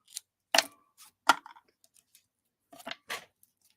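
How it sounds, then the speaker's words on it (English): Scissors snipping a craft loop for a tail and trimming it at an angle, several sharp, close cuts in an irregular rhythm against quiet. "for the tail, I am going to cut this loop and then trim it at an angle"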